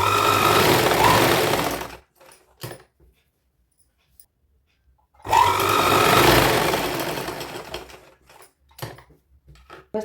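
A domestic sewing machine stitches the lining of a small girl's midi dress in two long runs, each a loud, rapid whirring burst, separated by quiet pauses with faint handling clicks.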